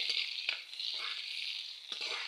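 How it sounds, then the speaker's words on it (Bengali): Sliced onion and ginger frying in a pan on the stove, a steady bright hiss of sizzling oil with a few soft scrapes from a stirring spoon, close and continuous. "এই দেখুন পেঁয়াজটা আদা ভাজা হয়ে গেছে গা, লাল লাল হয়েছে"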